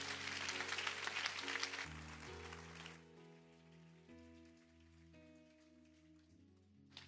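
A church congregation's acclamation to God is heard as a dense wash of clapping and cheering over sustained keyboard chords, cutting off after about three seconds and leaving the soft keyboard playing alone.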